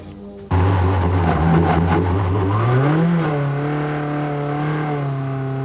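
An Aerotech race car engine revs hard on a closed track, a loud sustained whine that jumps in suddenly, climbs in pitch and then holds a high steady drone.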